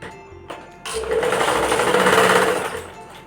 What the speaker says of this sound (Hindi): ऊपर से सिलाई हमने चलानी है यहाँ से